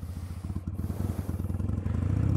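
A Harley-Davidson Sportster engine with a slight misfire chugs close by in uneven, lumpy pulses that build gradually in loudness as it runs.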